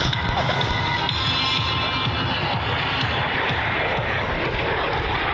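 Fixed-wing aircraft engine drone at an air show during a close-formation roll, a steady broad roar sustained throughout at moderate distance with no talk over it.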